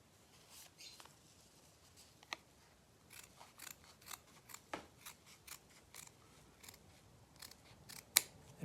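Scissors snip through felt while gnome hat pieces are cut out, giving a close, crisp series of irregular cuts with short pauses between them and no talking.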